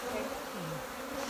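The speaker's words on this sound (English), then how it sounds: "So the bees are crawling all over us" Honeybees crawling on an opened beehive frame make a dense, steady buzzing drone, close and continuous for a brief moment.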